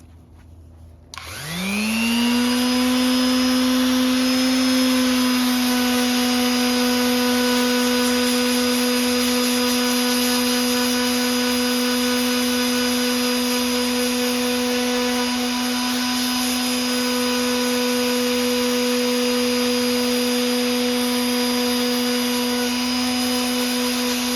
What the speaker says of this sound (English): I'm gonna start sanding, kind of blend it down in